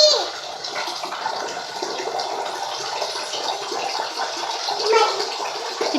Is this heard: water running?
yes